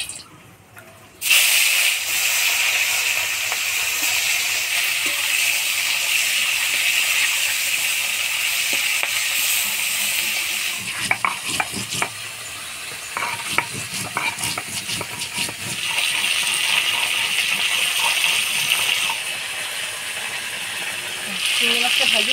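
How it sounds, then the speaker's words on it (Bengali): Golda chingri (large freshwater prawns) frying in a pan in a home kitchen, a steady loud sizzle and hiss with occasional stirring clatter, easing briefly midway before sizzling again. "এবার চিংড়ি মাছগুলো ভেজে নেব।"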